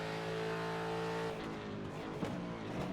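Race car on the Sebring track braking into a corner and downshifting, the loud engine tone holding steady then dropping through gears with sharp revving blips, close and continuous with no talk.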